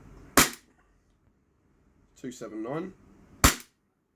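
Shots from a Tokyo Marui M&P 9 airsoft pistol being fired through a chronograph: two sharp, loud cracks about three seconds apart, with someone speaking briefly between them.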